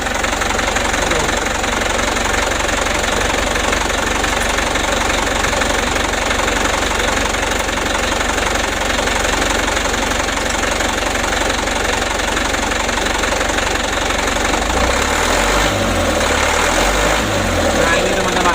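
A diesel engine fitted with a repaired Bosch injection pump runs loud and close, a steady knocking rumble that builds as it is revved near the end.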